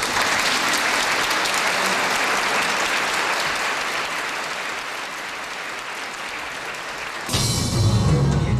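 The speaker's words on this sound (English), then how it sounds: "an evening in Austria applauding the enduring work of the" A concert audience in Vienna applauding a performance of Mozart's work, dense sustained clapping from a large hall crowd that runs steadily throughout, then swells suddenly louder near the end.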